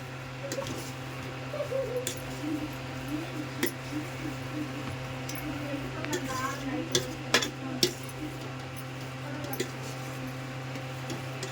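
Tomato chutney ingredients being stirred in a pan: soft scraping and intermittent metallic clinks of a spoon against the pan over a low, steady hum.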